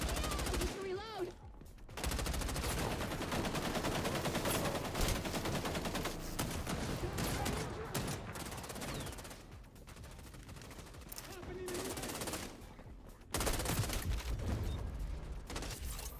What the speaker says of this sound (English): literally using an automatic M16